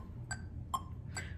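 A metronome set to 70 gives three evenly spaced, crisp ticks, quiet and clear over a low hum.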